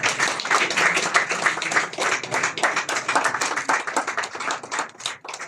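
An audience claps during a felicitation at a hospital World Kidney Day celebration, a dense, steady round of applause from many hands that lasts throughout and fades slightly near the end.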